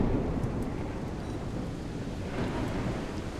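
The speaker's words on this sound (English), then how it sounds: "Must have been lightning." A lightning strike and thunder in The Solus Project video game rumble as a loud, steady low roar mixed with wind-like noise, continuous and heavy throughout, with no talking.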